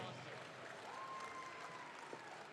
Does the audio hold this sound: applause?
yes